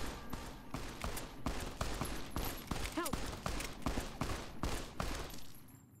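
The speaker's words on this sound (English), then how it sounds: "Just shooting this person" Rapid bursts of gunfire from the video game Fallout: New Vegas, a steady run of sharp shots at an even rhythm for several seconds, loud and close with no talk over it.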